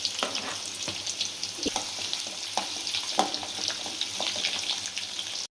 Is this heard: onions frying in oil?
yes